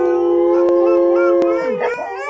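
A prolonged, wavering dog-like howl with rising and falling pitch carries loudly and close, with a few sharp knocks, likely people in an audience imitating a dog's howling.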